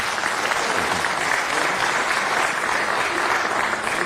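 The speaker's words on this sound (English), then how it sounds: "Let's give him a round of applause and thank him." Steady, dense applause from a crowd in city council chambers honoring a council member, a continuous even wash of clapping throughout.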